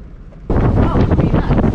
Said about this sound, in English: We're having a very pleasant Caribbean sail to St. Thomas. The wind right now is around 21 knots.